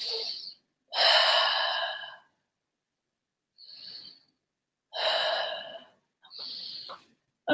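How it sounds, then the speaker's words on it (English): Deep, audible breaths during a side-body stretching exercise: long, airy inhales and exhales in a slow rhythm, several breaths separated by short silences, close to the microphone. "Breathing into your side body"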